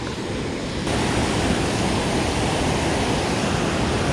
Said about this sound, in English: you're facing the waterfall, so that's good.